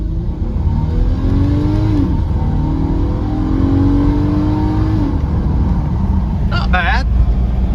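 The 2021 VW Atlas SE V6 R-Line 4Motion, with 20,000 miles, rises in a steady engine drone as it accelerates on a test drive, heard from inside the cabin with the window down, road rumble and wind underneath.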